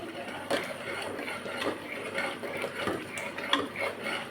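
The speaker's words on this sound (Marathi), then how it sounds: "छोट्या चमच्यानंच हलवावं लागतंय" A small spoon stirs chicken curry in a pot, producing repeated light metallic clinks and scrapes at an uneven rhythm, close and moderately loud, with no talking.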